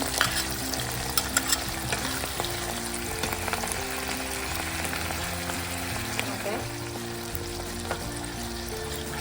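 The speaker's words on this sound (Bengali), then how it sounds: "ভালো করে মশলাটা কষবো" Ginger and cumin paste with fried onions sizzles in a pan as it is stir-fried for a Bengali parwal dish, giving a steady crackle with occasional spatula scrapes under background music.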